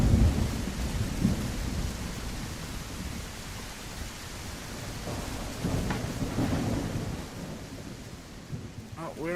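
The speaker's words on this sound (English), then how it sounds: "they might not be able to hear us through the storm." Steady heavy rain hisses with low rumbling thunder underneath in a video game storm, a dense continuous storm texture, with faint voices briefly audible near the end.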